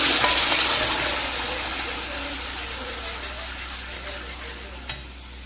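A spiced paneer gravy mixture sizzles as it is added to a hot pan, a loud close frying hiss that slowly fades over several seconds, ending with a brief clink.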